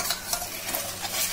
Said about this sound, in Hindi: ये मेरे दो बड़े टमाटर की प्यूरी है जो मैं इसमें ऐड कर रही हूँ